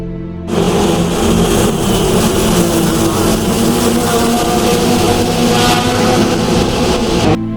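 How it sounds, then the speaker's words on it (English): Loud engine roar fills the space, a dense reverberant rumble of motorbikes overtaking, steady and close, echoing inside a road tunnel in western Sicily. "After a scary commotion of noise from overtaking motorbikes in the tunnels"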